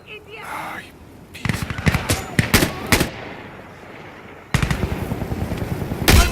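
Video game gunfire rings out in sharp single shots and short bursts, then settles into a steady rattle of automatic fire, with a voice shouting over the combat.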